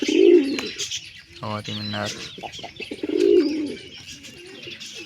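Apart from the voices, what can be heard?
wild pigeon chicks cooing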